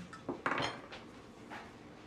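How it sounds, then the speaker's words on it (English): Spatula scraping gluten-free Linzer cookie dough down the sides of a mixing bowl, a few short close scrapes and knocks against the bowl, with quiet pauses between them. "I'm gonna just scrape this down because it's all nicely combined."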